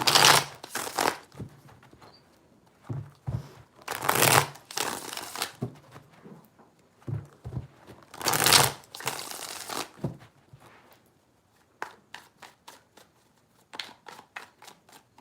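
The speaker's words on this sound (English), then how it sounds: "Three shuffles for Gemini." Tarot cards shuffled by hand in a few separate bursts, crisp riffling and sliding close up, followed near the end by a run of light taps as cards are squared or laid down.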